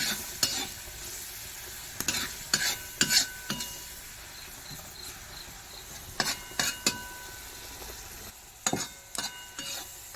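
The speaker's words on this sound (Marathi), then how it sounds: "मिक्स करूया मस्तपैकी मिक्स" Onion masala stirred and fried in a pan, with a soft steady sizzle under repeated scraping spoon strokes that come in uneven bursts, close and fairly quiet.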